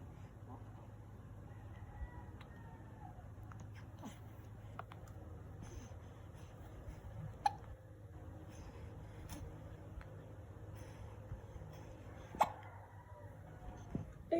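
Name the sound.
baby hiccuping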